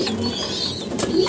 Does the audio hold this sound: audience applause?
no